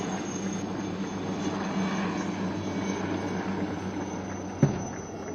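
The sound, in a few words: Chetak helicopter flying over a naval display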